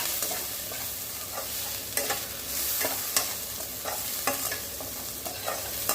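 Ingredients for a bitter gourd pitlai being dry-roasted and stirred in a pan over low heat, with a soft background sizzle and repeated sharp scrapes and clinks of a spoon against the pan.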